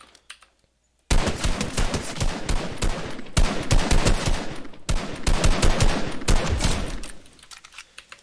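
Gunshots in the video game Fortnite Battle Royale break out after a second of quiet as loud, rapid bursts of fire lasting several seconds, with faint keyboard clatter underneath.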